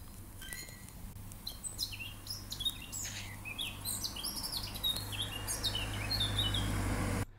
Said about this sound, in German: da ist Vogelgezwitscher drin